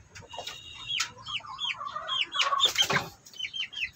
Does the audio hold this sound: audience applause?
no